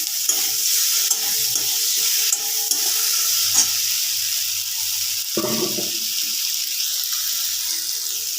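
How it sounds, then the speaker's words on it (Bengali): Homemade paneer cubes fry in hot oil in a home kitchen, giving a steady bright sizzle throughout. Occasional clinks and stirring scrapes sound close by. "এগুলো ভালোভাবে ভেজে নেব"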